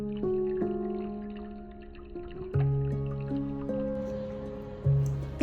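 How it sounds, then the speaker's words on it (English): Water pours into a cooking pan for an Asian-style vegetable soup, a steady liquid fill with clear ringing tones that step upward in pitch as the pan fills, and a few drips and splashes come through alone. "First, grab a pan and add water to it."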